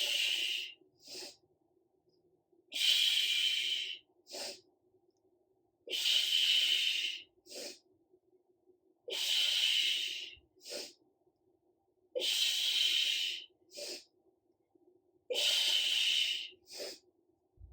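During a home triceps workout, a person breathes in a steady rhythm of about six cycles, each a long forceful exhale followed by a short sharp inhale, close and clear with quiet pauses between.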